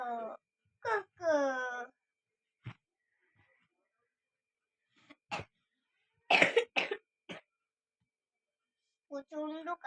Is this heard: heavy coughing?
yes